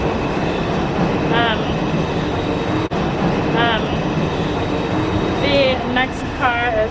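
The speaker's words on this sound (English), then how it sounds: "That's the 4 train." A New York City 4 subway train sits in a station, with a steady rumbling ambience, a sharp click near the middle and several short squealing or chiming tones, while voices talk faintly.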